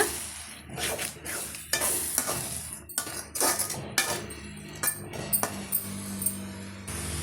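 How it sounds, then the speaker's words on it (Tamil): A spoon scrapes and clinks through a brinjal side dish with salt in a pan, repeated stirring strokes over a soft sizzle, close and clear with no voices. "சேர்த்துட்டு நல்லா மிக்ஸ் பண்ணி கொடுத்துக்கலாங்க"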